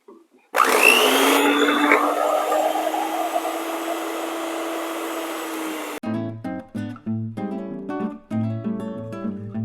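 An electric mixer beats chocolate pound cake batter with sugar in a steady, loud, close whir that runs for about five seconds, then cuts off abruptly as music takes over.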